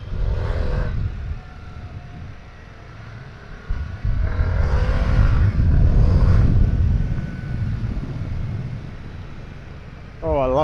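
A Harley-Davidson Pan America 1250 Special motorcycle engine rumbles loudly and steadily up close, swelling through two throttle blips before settling back to a deep, continuous drone.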